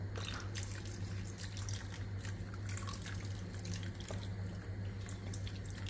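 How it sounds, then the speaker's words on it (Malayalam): A continuous stream of water pours and splashes into a cooking pot on a lit stove, running steadily and close by for several seconds. "കുറച്ചുകൂടെ വെള്ളം ഒഴിക്കണം. ഞാൻ ഒഴിച്ചുതരാം."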